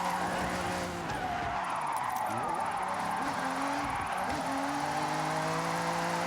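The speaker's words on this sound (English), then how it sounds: "Because it's not drifting the best, because it's not." Car drifting in Forza Horizon with a steady engine roar and rising and falling tire squeals from skidding, constant and fairly close, with no talk.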